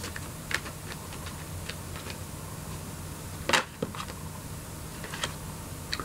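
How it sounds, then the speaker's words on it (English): Tarot cards are shuffled by hand, giving soft, scattered clicks and taps with one louder, quick riffling burst partway through, all close and fairly quiet. "I shuffle the cards upside down."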